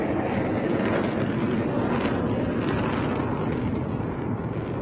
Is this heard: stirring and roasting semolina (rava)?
no